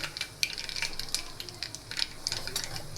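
Mustard seeds spluttering in hot oil inside a pressure cooker, heard as faint, scattered crackles and small pops over a low background hiss.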